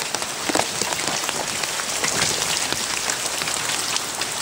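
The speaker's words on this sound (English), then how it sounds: "It's raining." Steady rain falls on a surface in a desert setting, a dense, even hiss of countless close raindrops with scattered sharper patters, constant and fairly loud throughout with no voices.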